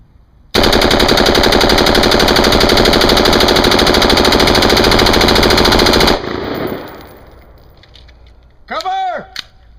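Airsoft gun firing a long, rapid fully automatic burst of about five and a half seconds, loud and close with a dense rattling rhythm, then stopping abruptly; afterward comes a short spoken shout.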